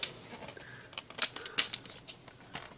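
Paper is trimmed for a holiday scrapbook layout, giving soft, close, intermittent snipping and crisp slicing ticks in a quiet room.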